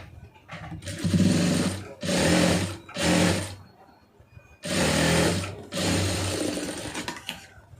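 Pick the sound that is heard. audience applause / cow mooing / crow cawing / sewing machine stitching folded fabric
sewing machine stitching folded fabric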